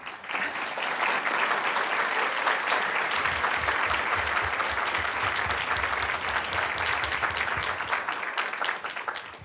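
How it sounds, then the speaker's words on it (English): A conference audience at a plenary session gives a big, sustained round of applause, dense and loud clapping filling the hall for about nine seconds. "let's give a big round of applause to Abby"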